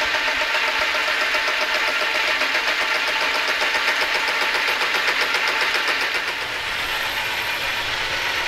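Metal lathe cuts down a weld on a steel chuck back plate for a 5-inch chuck, a loud steady machining drone with a fast rhythmic chatter that eases slightly near the end.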